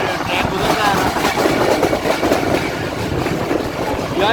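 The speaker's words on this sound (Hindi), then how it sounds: "ये सीरियल शॉप है रावलपिंडी की, जिसके साथ ये ट्रेन गुजरता है।" A train rumbles past steadily along the Rawalpindi railway line near Golra Sharif Junction, a continuous close, loud rolling roar with faint rail clatter.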